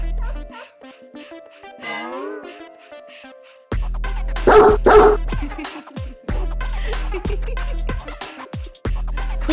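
Dogs bark in a playful birthday skit, several sharp barks over a bed of music, loud and close, with some yipping and whimper-like sounds mixed in.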